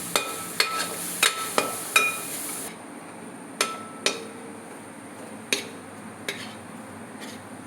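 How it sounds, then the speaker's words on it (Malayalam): A spoon stirs masala in a pan as it sautés, giving sharp metallic scrapes and taps in a quick run, then sparser knocks over a faint background, heard up close without speech. "ഇത് നമുക്ക് എണ്ണ തെളിയുന്ന വരെ ഇതുപോലെ ഇങ്ങനെ വഴറ്റണം."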